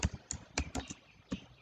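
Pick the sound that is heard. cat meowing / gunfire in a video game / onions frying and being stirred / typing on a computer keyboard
typing on a computer keyboard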